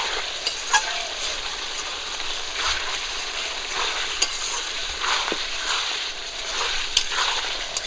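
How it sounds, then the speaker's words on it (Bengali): Chicken curry with fried potatoes is stir-fried in a pan with a steady, close sizzle. Scraping strokes of the spatula recur every second or so, with occasional sharper clacks. "ভেজে রাখা আলুগুলো দিয়ে দিচ্ছি আলুগুলো দেওয়ার পর আবারও ভালো করে কষিয়ে নেবো মাংসগুলোকে"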